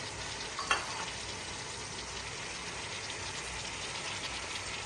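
Finely chopped onions and green chillies frying in a pan, making a soft, even sizzle, with one brief clatter near the start as they go in, and no talking.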